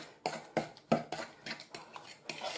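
A spoon scrapes and clacks against a bowl while stirring a salted zucchini fritter batter, making quick, rhythmic strokes of about four per second that sound fairly faint and close.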